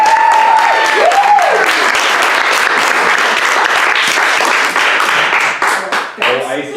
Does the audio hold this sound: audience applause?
yes